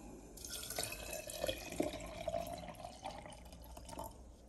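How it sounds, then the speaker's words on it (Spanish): Water poured into a container during a folk ritual, a soft, close trickle and dripping splash that swells and fades over a few seconds against quiet surroundings. "vamos a colocar agua."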